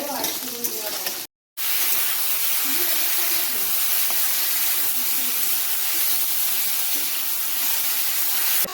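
Loud, steady sizzling hiss of potatoes frying in a pan, continuous throughout apart from a brief silent break near the start.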